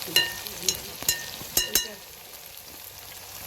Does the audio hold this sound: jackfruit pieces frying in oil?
yes